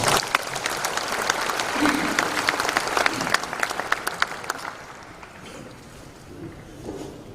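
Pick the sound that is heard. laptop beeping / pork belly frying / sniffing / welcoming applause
welcoming applause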